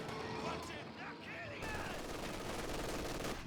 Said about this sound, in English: M242 gets a burst there onto the Universal Carrier